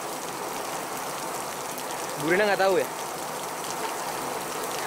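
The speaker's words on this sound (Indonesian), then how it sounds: "Hujan-hujanan lagi." Steady outdoor rain hissing evenly throughout, with someone briefly speaking over it midway.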